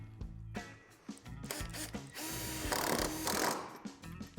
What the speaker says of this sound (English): Secure the tube into place by inserting a self-tapping screw into this tip.